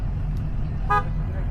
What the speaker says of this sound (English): Honk it.